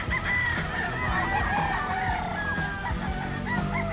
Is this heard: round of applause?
no